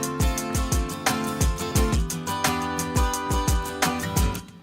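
Suspended chorus chords played during a band preproduction session: a continuous, loud, rhythmic chord pattern with regular accented strikes and a driving low end, no talking.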